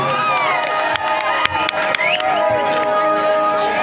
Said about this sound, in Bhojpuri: एक बार ताली बनते भाई